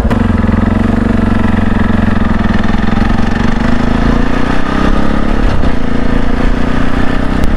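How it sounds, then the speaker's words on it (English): Racing quad engine passing close on a clay trail loop, a loud buzzing engine note that stays strong throughout and shifts slightly as the vehicle goes by. "He's got like a racing quad or something."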